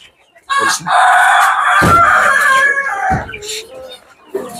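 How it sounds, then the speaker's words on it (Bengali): Chickens cluck and a rooster crows loudly and close by in a farm coop area, the calls filling most of the stretch with short pauses between them. "দেখেন মুরগি আর মুরগি"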